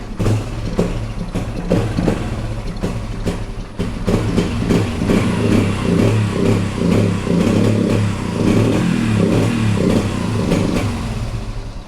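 A motorcycle engine with a carburetor fuel problem is kick-started and runs rough, a loud, close, uneven chugging with irregular pulses and no voices.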